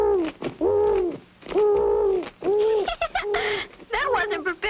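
A series of warbling, hooting calls from a small owl in a cartoon, several repeated bursts in quick succession, close and clear, likely a voice imitating the bird.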